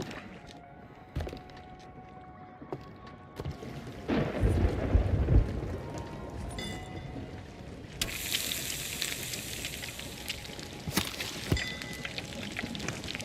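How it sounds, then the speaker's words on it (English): Rain falls steadily outdoors, building into a heavier pour partway through, with low rumbles of thunder breaking in now and then at a moderate distance. "Thank goodness it's raining."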